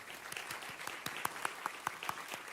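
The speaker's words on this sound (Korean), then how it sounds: "박수 한번 할까요?" Audience applause at a national youth camp gathering, a steady patter of many hands with a few sharper claps standing out, held at moderate distance for a couple of seconds.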